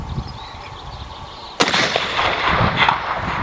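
A single sharp crack from a scoped hunting rifle on a deer meat hunt near Whanganui, loud and close, followed by a rolling outdoor echo that fades slowly.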